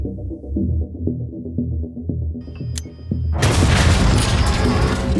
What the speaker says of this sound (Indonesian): Bunyi ledakan yang juga terdengar dari gudang pesta